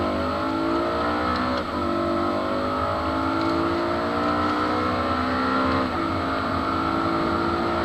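A BMW M3 engine revs hard on a race track and climbs steadily through the gears, with brief dips at each shift, loud and close throughout.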